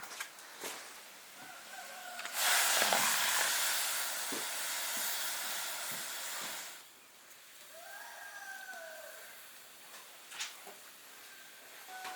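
Steam hisses loudly from a wok where a large pumpkin steams with cured pork ribs, a broad rushing burst that swells for several seconds then settles to a softer simmer, with faint clinks around it.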